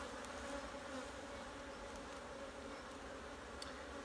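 Honey bees drone steadily around hive frames during a December honey harvest, a dense, continuous close buzzing with occasional individual bees zipping by.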